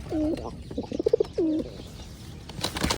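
Two soft, close pigeon coos, with brief fluttery clicks between them and a faint rustle at the end.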